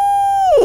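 A single loud, clear hooting note imitating an owl, blown on a turkey call, steady and then bending downward at the end, sounding alone and close by.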